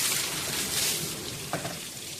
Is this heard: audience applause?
no